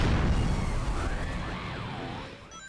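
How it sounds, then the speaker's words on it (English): A big explosion in the Sonic Heroes video game during a Team Dark stage at Bingo Highway: a loud, heavy boom opens and rumbles away over a couple of seconds, with warbling synthetic tones sweeping through the decay. "And look at this explosion."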